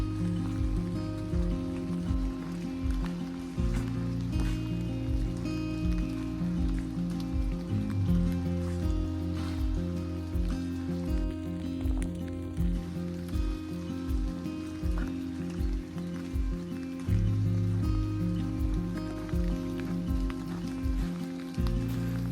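Steady rain falls on a cold nature trail in a state park, a dense, continuous patter heard close and evenly throughout, with no talking.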